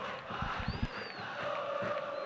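Fans in the stands at a 2005 Copa Libertadores football match between Cerro Porteño and Santo André make a steady crowd roar with scattered shouts and chants. The noise stays at a moderate, distant level throughout.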